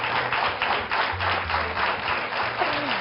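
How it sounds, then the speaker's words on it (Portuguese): Audience applause for the doctors on a Portuguese TV comedy show: steady, dense clapping from a studio crowd filling the whole stretch, with a faint voice briefly underneath. "Uma salva de palmas para os doutores que têm tanta paciência"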